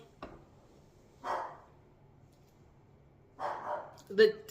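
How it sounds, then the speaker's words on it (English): A dog barks in a few short, separated bursts, moderately loud against a quiet background. "She's gonna keep barking."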